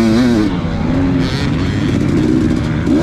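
Motocross motorcycles racing on a desert dirt track during a 40+ class GP, a loud close engine drone with shifting revs heard from the rider's own bike.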